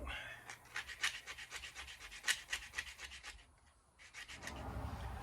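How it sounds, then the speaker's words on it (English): A sanding block rubs back and forth on a wooden arrow shaft in quick, rhythmic rasping strokes, close and fairly quiet, pausing briefly near the end. "And take your sanding block."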